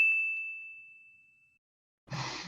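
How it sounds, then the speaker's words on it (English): A single bell rings out for an improv game, a clear bright ding that slowly fades over about a second and a half, followed after a pause by a burst of noise. "we're going to ring the bell"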